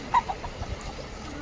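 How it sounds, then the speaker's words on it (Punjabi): A few short clucks from roosters close by on a farm, brief sharp calls over a low background hum. "ਹੁਣ ਦਿਖਾਉਣੇ ਆ ਤੁਹਾਨੂੰ ਮੁਰਗੇ ਜੀ"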